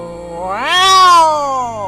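A person imitates a cat's meow with one drawn-out, rising and falling vocal meow, loud and close, alone with no other sound.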